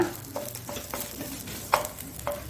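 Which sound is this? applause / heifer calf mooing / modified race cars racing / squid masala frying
squid masala frying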